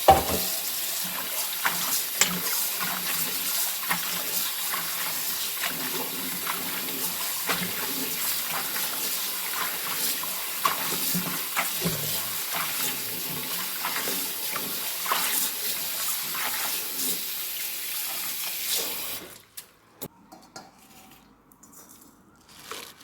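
Spinach leaves are washed under running water in a kitchen, a steady rushing hiss with small splashes and crunches that goes on for about nineteen seconds and then abruptly stops.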